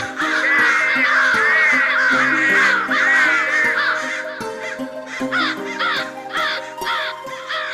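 A flock of crows and jackdaws caws in loud, overlapping harsh calls, with repeated rasping caws dominating and a steady low tone underneath.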